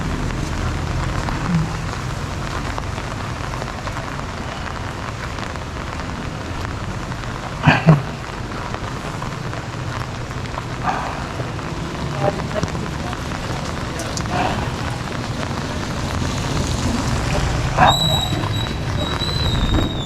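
Steady rain falling outdoors during a walk, a constant close wash of drops on surfaces with a few sharper knocks and a faint distant tone near the end.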